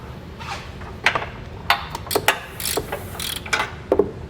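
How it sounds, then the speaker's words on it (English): Ratchet wrench with an 18mm socket backing off bumper stud nuts on a 2018 Jeep JL Wrangler, giving sharp, uneven bursts of metallic clicking spread across the clip, close to the mic. "So we're going to be using an 18mm socket."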